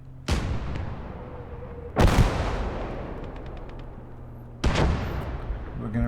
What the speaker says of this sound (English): That's a big gun, that's a mortar lafette.